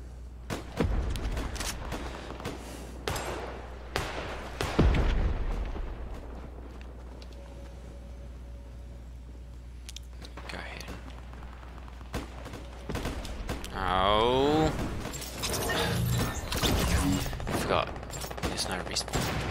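Bolt-action rifle gunfire in Fortnite comes as scattered loud shots and bursts among distant game explosions, with a quiet stretch in the middle and busier sound effects near the end.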